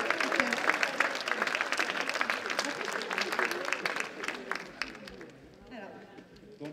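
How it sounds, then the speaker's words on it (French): A church congregation at a Sunday service applauds children brought to the front, with brisk, lively clapping that fades after about five seconds into a softer murmur of voices. "on les applaudit."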